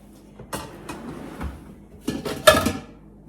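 Metal pots and pans being shifted around inside a kitchen cabinet during decluttering, a series of close clanks and knocks, scattered at first and then a louder cluster of clattering metal toward the end.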